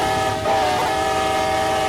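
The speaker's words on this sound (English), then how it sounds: "The train does seem that it's still picking up speed." A heavy freight train with a long consist accelerates, its steady engine drone and tonal hum running loud and continuous with no talk.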